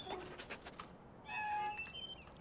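In a farming video game, birds take off with a brief flurry of wing flaps as a dog chases them, faint and short, with a soft chirp after the flutter.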